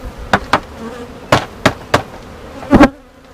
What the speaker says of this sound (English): They have a ton of field bees.